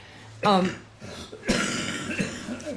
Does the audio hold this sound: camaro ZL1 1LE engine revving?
no